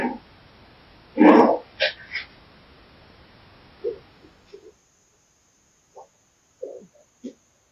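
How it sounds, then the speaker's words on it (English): A dog lets out several separate barks, then softer whimpers and yelps over about eight seconds. The sounds come in irregular bursts, with quiet gaps between them. "Why did the dog look so uneasy?"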